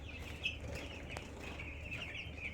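Broiler chickens on a farm cluck and chirp softly and intermittently over a low steady hum, with faint rustling and possible wing movement and no one talking.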